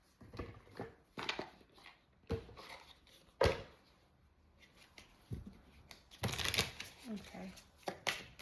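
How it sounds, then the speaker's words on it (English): A deck of tarot cards is shuffled in several bursts of soft riffling and flapping, fairly close, with a person talking between and over the card sounds. "Shuffle this deck and get some clarifiers"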